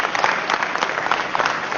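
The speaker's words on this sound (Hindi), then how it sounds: "मैं चाहता हूं इनके लिए जोरदार तालियां होनी चाहिए" A seminar audience claps steadily and densely for new guests at a business meeting, a brief, even burst of applause with no talk over it.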